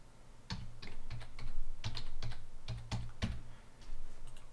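Typing on a computer keyboard while working in MS Excel: quick irregular clusters of light key clicks at close range, fairly soft, with brief pauses between bursts and no voices.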